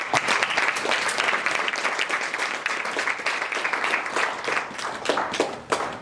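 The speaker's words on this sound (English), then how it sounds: "Let's just give God a round of applause." A teen audience gives a round of applause, a busy crowd of hands clapping loudly and continuously with some individual claps distinct, tapering slightly near the end.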